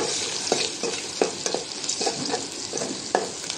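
Cumin, garlic and ginger paste fries in a pan with a steady close sizzle, punctuated by repeated scraping stirs of a spatula.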